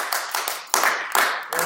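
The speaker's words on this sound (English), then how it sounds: "let's give her a round of applause" A small group claps for a student during a singing lesson, giving a few scattered, separate hand claps spaced apart rather than a full ovation.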